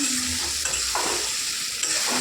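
Fried okra and potatoes stirred in a pan with turmeric for a vegetarian curry, a steady close sizzle running throughout with scraping spatula strokes around one second and again near the end.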